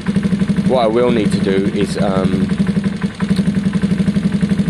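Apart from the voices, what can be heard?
Gilera DNA 125 engine idling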